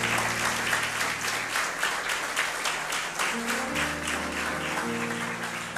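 Church congregation applauding Jesus during a worship service in Lisbon, a steady, dense wash of clapping throughout with sustained organ or keyboard tones underneath.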